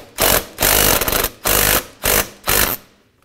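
A ratchet or power driver with a 10 mm socket working an intake hose clamp on a 2015-2019 Hyundai Sonata: five loud, close bursts of rapid buzzing clicks, each about half a second long, separated by short pauses, without talk.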